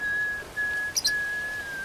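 Whistling in a Korean horror film scene from A Tale of Two Sisters, set outdoors on a bright afternoon; a clear, steady whistled tune carries alone across the whole stretch with only a brief break in the middle.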